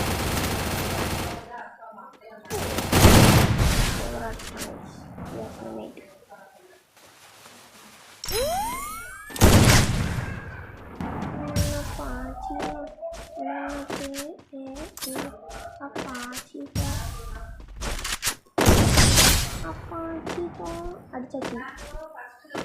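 Gunfire in a shooting video game comes in several loud bursts of rapid shots separated by quieter gaps, with chimes and a voice talking between them.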